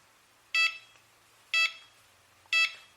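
A Cheerson CX-20 quadcopter's radio transmitter gives three short, identical electronic beeps, evenly spaced about a second apart, clear and close with nothing else sounding between them.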